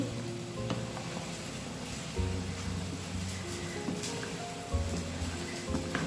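Sliced onion and peppers are stirred in a sizzling pan, with a soft continuous fry, periodic spoon scrapes and a few clinks, heard close and without talk.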